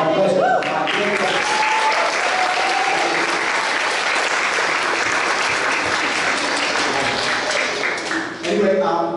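A school audience at a primary spring event breaks into sustained, loud applause, clapping steadily for several seconds, with a voice speaking over it before it fades near the end.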